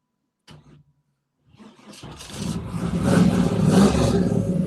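A classic car's starter cranks briefly, the engine catches, and it revs up into a loud, steady rumble close by.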